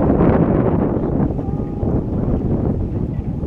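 Steady wind on a lake in Virginia buffets the microphone, a continuous low rumbling roar with no voices.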